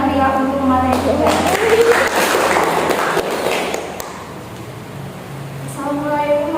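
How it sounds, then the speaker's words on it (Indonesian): An audience at a youth reproductive health education session gives a burst of applause, a dense patter of clapping lasting a few seconds between stretches of a speaker's voice. "Berikan tepuk tangan yang meriah untuk materi kedua."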